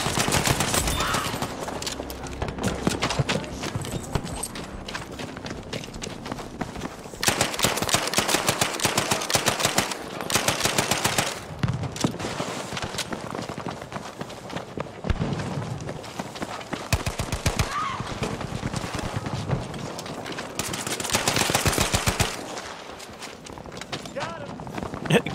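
Gunfire from a multiplayer match of the video game Battlefield V, with repeated bursts and rapid volleys that come and go at a steady, fairly loud level, mixed with other game noise while a person talks throughout.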